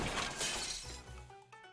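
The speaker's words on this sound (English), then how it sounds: "Ooh, that was the sound of breaking glass." Glass shatters in the Twisted Wonderland video game during a Halloween monster scene: a loud, dense crash that fades over about a second, with a low musical hum underneath.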